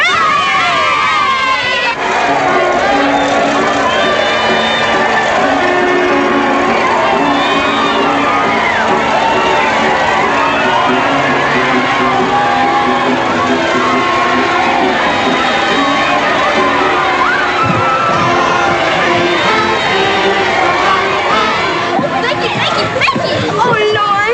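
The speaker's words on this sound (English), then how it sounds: "Do you hear the cheering?" A crowd of children cheers in the 1939 film The Little Princess, loud and continuous shouting and chatter mixed with film music and overlapping voices.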